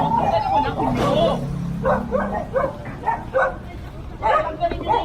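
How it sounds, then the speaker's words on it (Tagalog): Several dogs at a dog impound bark and yip in short bursts, with some whimpering, under and between loud talking from people nearby. "Ano ito mga aso na to?"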